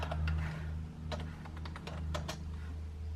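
Quick keystrokes tapped on a computer keyboard, a scattered run of light clicks over a low steady hum, fairly quiet and close.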